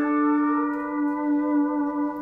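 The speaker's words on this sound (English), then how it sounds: "Slides on pedal steel guitar are very expressive and have definitely defined its sound." A pedal steel guitar plays an ascending slide, a clear sustained chord with rich overtones gliding smoothly upward in pitch. It rings alone, quiet and close, with no voices.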